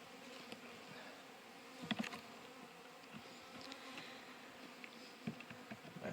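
Honey bees buzz around an opened spring hive, a steady hum of many insects with louder passes as individual bees fly close to the listener, and no voices.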